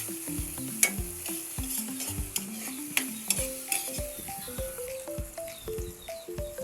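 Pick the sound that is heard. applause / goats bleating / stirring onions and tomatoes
stirring onions and tomatoes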